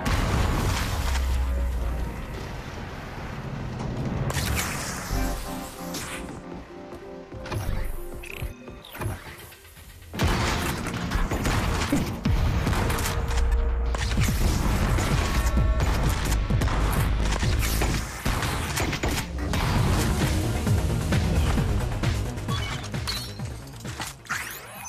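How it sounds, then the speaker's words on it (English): Loud booms, crashes and mechanical clatter come from the VR shooter Sweet Surrender, with dense layered game effects that run almost nonstop and a brief lull midway. "just need to be careful of the explosion."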